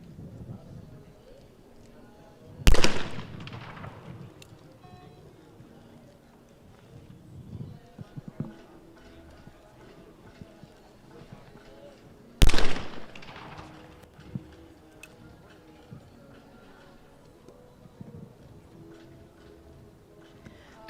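Two sharp, loud shotgun blasts about ten seconds apart ring out at a women's trap shooting World Cup final in Egypt, each with a quick decaying echo over a low murmur of crowd and commentary.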